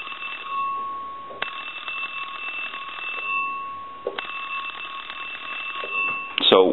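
An Entel rotary desk telephone's mechanical bell rings in repeated bursts close by, a bright sustained metallic trill cut by brief pauses, with a clatter at the end.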